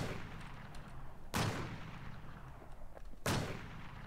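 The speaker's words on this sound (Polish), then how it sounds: "Strzela z tej snajpery" Two loud, sharp sniper rifle shots in the online survival shooter Infestation: World, about two seconds apart, each a sudden crack with a brief decaying tail over low game ambience.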